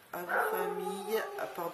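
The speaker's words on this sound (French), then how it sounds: "il y a mon chien qui aboie" A pet dog barks and whimpers in short, yelping bursts at close range, mixed with a person talking over it.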